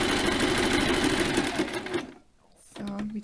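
Sewing machine stitching along the edge of fabric for a small cherry-pit warm and cold compress pouch, a loud steady rapid whir for about two seconds, then a pause and a brief restart.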